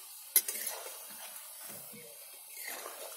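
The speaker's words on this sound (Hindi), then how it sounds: "बहुत अच्छे से हमारा पालक का पकौड़ा फ्राई हो रहा है" Medium-sized spinach pakoras deep-frying in hot oil give a steady soft sizzle, opened by a sharp clink of a utensil against the pan and a few light scrapes.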